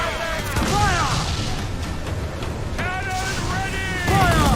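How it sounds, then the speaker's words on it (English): Cannon fire in a naval battle video game: heavy low booms rumble steadily beneath loud shouted battle orders and voices throughout. "Cannon ready! Fire!"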